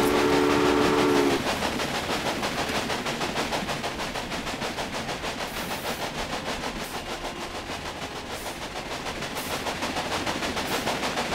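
A train in the video game Railway Empire rumbles along steadily with a rhythmic clatter, a brief horn-like tone sounding at the start, continuous and fairly loud throughout.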